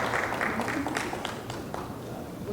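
Scattered clapping from attendees at a February 2023 meeting, fairly quiet and thin, with a handful of separate claps popping out near the start and fading under faint murmuring room noise.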